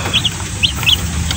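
Hens pecking at feed mixed with vitamin powder, giving a few short, close clucks spaced apart over a low farmyard hum.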